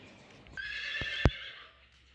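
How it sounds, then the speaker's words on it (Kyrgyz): A one-year-old pure black bay colt whinnies once in a clear, close, harmonic neigh that rises and holds briefly, with a couple of sharp knocks like hoof or tack sounds partway through. "Таза кара байыр жылкы."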